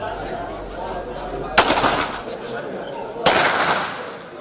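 Two sharp gun reports ring out at a shooting competition held by a local shooting club and the district military command, spaced well apart over a steady outdoor background with a voice talking.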